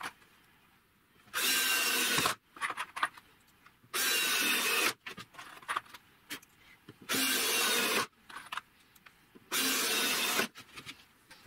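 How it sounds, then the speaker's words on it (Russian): A power drill drives self-tapping screws into a wooden router template block in four loud, evenly spaced bursts of about a second each, with quiet handling noises between them. "Не поленюсь дополнительно закрепить его на саморезы"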